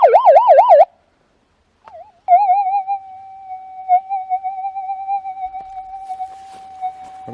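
A Minelab GPX 4500 gold-nugget metal detector with a Coiltek Elite 14 coil sounds through a speaker: a loud warbling tone, a pause, then a steady threshold hum broken by small crackles and a few sharp blips.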